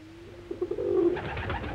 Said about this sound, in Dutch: Maar we gaan eerst naar de duiven kijken.